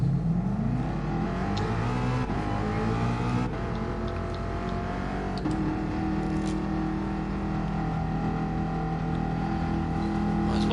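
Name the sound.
newish Ford car engine driving, likely from a driving game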